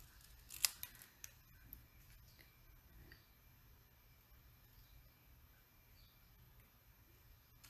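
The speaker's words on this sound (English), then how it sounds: "you move the paper, you don't move the scissors." Scissors snip through paper while cutting pieces for a handmade card, a few crisp close cuts early on, then quieter rustling and faint snips in a hushed room.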